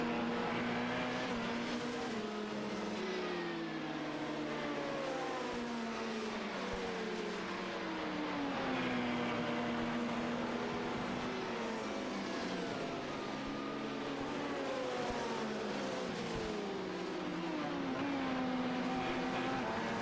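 Race cars lapping a circuit in a sports car championship in Belgium, engines droning and sweeping up and down in pitch as several cars pass, a continuous distant roar with overlapping revving.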